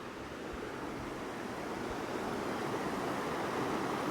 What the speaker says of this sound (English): Got the river flowing beneath us.